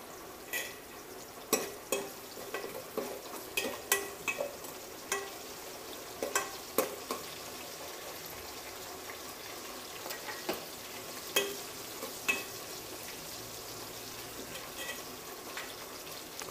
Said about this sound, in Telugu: ఈ ఉల్లిపాయ ముక్కలు కొంచెం దోరగా వేయించాలి. దీనిలోనే కరివేపాకు కూడా వేసుకుందాం.